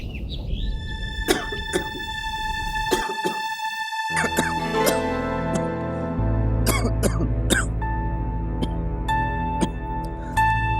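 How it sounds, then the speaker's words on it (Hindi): Several short, close coughs from one person break through a television drama scene, set against a backing music track and other soundtrack layers. "मामूली सी खांसी है, ठीक हो जाएगी।"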